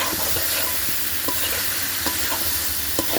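Chicken pieces frying in a pan with potatoes and spices, a steady close sizzle with soft stirring scrapes and occasional clicks, no voices.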